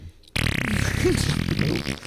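A loud, long fart sound effect on a podcast, one sustained buzzing, sputtering blast that kicks in suddenly after a brief silence and lasts nearly two seconds, heard alone without talking.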